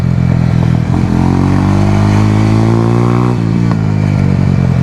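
A motorcycle rides fast along a curvy hill road strewn with debris and loose dirt, its engine droning loud and close, pitch climbing and dipping through gear changes and throttle, with wind rush throughout.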